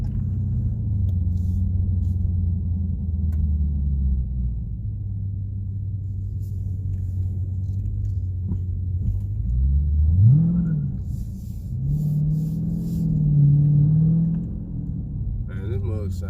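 A Dodge Challenger Scat Pack V8 idles with a deep, steady rumble close by, then revs in two rising and falling swells before settling back, under occasional talking.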